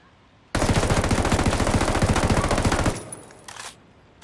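Close, loud bursts of M4A1 rifle gunfire in a video game, rapid evenly spaced shots lasting about two seconds and then cutting off, followed by a faint mechanical rattle.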